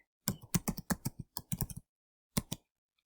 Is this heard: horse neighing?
no